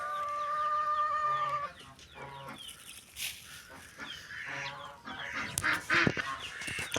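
Chickens cluck and squawk nearby as they are caught for deworming in a backyard coop, with agitated calls, flapping and shuffling at moderate volume.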